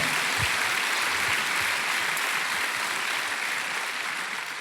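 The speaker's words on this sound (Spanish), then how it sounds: "dese un aplauso, hermano, dese un aplauso." A church congregation applauds during a sermon with steady, dense clapping that holds at an even level throughout, alone and without speech.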